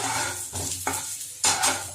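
Fried potatoes shift in a pan during mutton kosha cooking, bringing a short close burst of sizzle and clinking utensil scrapes with brief pauses between, and no voices.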